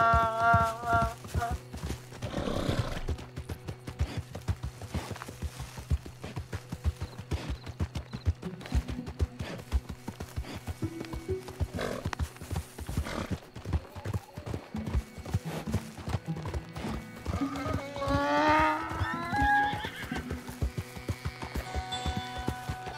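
Hooves of a donkey clopping steadily in Red Dead Redemption 2, a long run of close, rhythmic footfalls with a brief braying cry, under ongoing talk.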